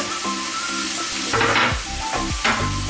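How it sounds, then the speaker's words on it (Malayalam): Onion, ginger, garlic and green chilli sauté in a pan, giving a steady close sizzle with several louder scraping stirs near the middle and end. "ഇതിലോട്ട് നമുക്ക് ഇഞ്ചി വെളുത്തുള്ളി ഇടാം ഇഞ്ചി വെളുത്തുള്ളി പച്ചമുളക് ഇത് നല്ലപോലെ ഒന്ന് വാടണം"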